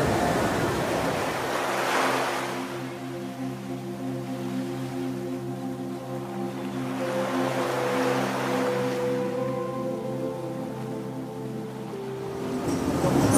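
Ocean waves near Azenhas do Mar, Portugal, a steady roar of surf with slow swells and wind noise, joined by a low droning hum partway through.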